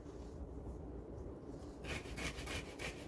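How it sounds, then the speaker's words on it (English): Old ginger grated on a microplane grater, soft steady rasping, then a run of quick rhythmic scraping strokes, close but quiet. "I just grate it just like this on my microplane grater."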